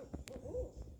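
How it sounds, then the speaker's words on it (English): A barred owl hoots close by at night near a camped Nissan Pathfinder, a short series of low, resonant hoots in quick succession, clear and loud against a quiet background. "that's a barred owl"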